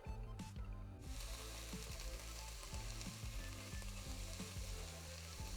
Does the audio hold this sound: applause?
no